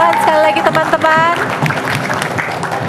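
Audience applause at a school quiz competition, a burst of clapping that starts strong and fades over a few seconds, with a voice speaking over the start.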